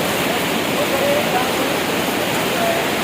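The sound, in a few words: rushing floodwater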